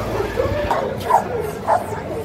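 A four-month-old dog at a Friday market gives a few short yips and barks, close by, under and between people talking.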